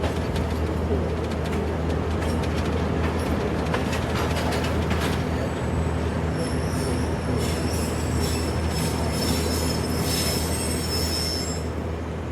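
Pakistan Railways Sialkot Express rolling along the tracks through countryside: a loud, continuous rumble of wheels on rail with high metallic squeals in the latter half and birds faintly audible.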